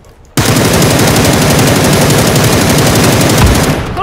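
Video game automatic gunfire rattling in one long, loud, rapid burst that fires continuously for several seconds right up close.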